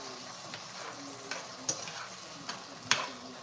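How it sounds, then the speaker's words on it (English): Food being stirred and sautéed in a pan before ground beef goes in, for baked spaghetti: a steady low sizzle with several sharp scraping or clinking stir strokes rising over it, close and moderately loud. "Now I'm gonna saute this a little bit before I add in my"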